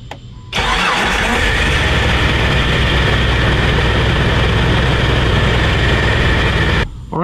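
A car engine cranks briefly and roars to life, then runs steadily at a loud, close idle for several seconds before cutting off.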